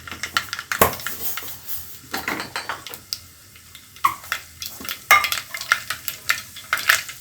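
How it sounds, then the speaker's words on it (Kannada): Mustard seeds sputtering in hot oil in a pan, a dense crackle of sharp irregular pops and spits with occasional louder bursts and utensil taps, close and with no voices. "ಎಣ್ಣೆ ಕಾದಿದೆ, ಇವಾಗ ನಾನು ಅದರಲ್ಲಿ ಸ್ವಲ್ಪ ಸಾಸಿವೆ ಹಾಕ್ಕೊಳ್ತಾ ಇದ್ದೀನಿ."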